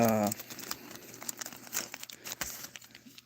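A Desert Storm trading card booster pack wrapper is torn open with crinkly plastic rustles and crunches, close and fairly loud. A brief voice opens the clip.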